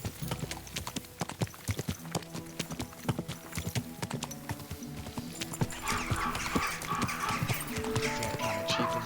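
Horse hooves in Kingdom Come: Deliverance II clip-clop in a steady rhythm, joined later by a denser rush of background noise as the pace carries on.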